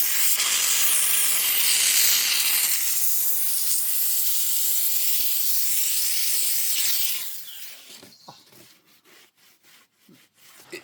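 A Beldray Titanium BEL07011TTR handheld steam cleaner gives a loud, steady hiss of steam for about seven seconds, then cuts off, leaving faint scattered clicks and rubbing sounds.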